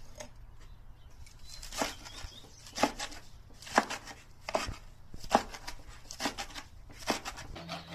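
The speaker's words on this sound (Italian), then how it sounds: "andate a tritare con la mezzaluna" A mezzaluna rocks and chops herbs on a board in a series of sharp, irregular taps, some louder than others, with no voices.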